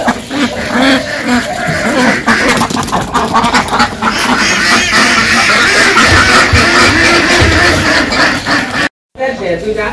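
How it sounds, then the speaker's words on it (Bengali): Ducks quack loudly and continuously as they are let out on a foggy village morning, a busy close flock with voices talking over them. "তো এই যে হাঁস তো ছেড়ে দিচ্ছে"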